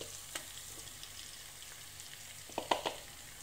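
Cabbage and spices being stirred and fried in a pan for an achari cabbage curry: a soft steady sizzle with a few light scrapes and clinks of the spoon, the loudest near the end, and no one speaking.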